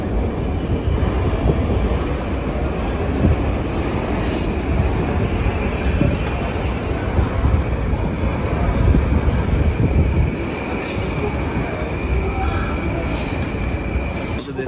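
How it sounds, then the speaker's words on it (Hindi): A deep Moscow metro train rumbles steadily and loudly throughout, a dense low roar of rolling carriages with faint wheel squeal rising at times, with no talk over it. "ये है मेट्रो मॉस्को का और आप देख सकते हैं कि बहुत डीप मेट्रो है।"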